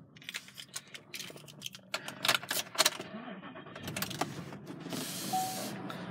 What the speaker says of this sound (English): Go ahead and start the car up for you.